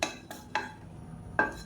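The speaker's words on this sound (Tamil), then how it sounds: "பட்டை நல்லா வறுபட்டுருச்சு" About six thin pieces of cinnamon are dry-roasted in a pan, with a few sharp metallic clinks of a utensil against the pan, close and spaced apart.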